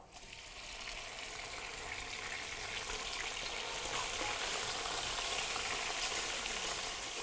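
Chicken pieces hit a pan of browned onions and whole spices for a Moradabadi chicken biryani, setting off a loud, steady, close sizzle and frying hiss that builds and holds with no talk.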